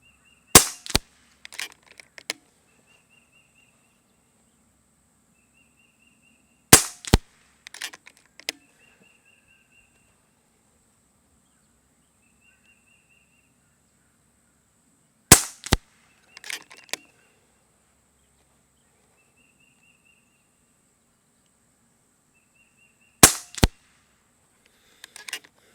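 Four widely spaced sharp cracks from a regulated FX Streamline .22 PCP air rifle, each a loud near snap followed by a few small ticks and rattles, with quiet stretches between shots.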